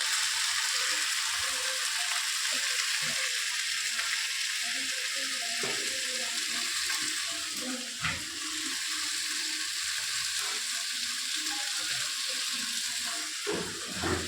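Black cumin and tomato fry in a pan for a Bengali fish curry masala, a continuous loud sizzle broken by scraping stirs and clinks of a utensil throughout, with no speech.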